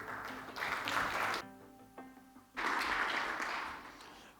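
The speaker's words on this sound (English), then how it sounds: "A round of applause for him." Bursts of audience applause at a government partners' remarks event, interrupted midway by a brief tonal musical passage, then the clapping resumes and slowly tapers off.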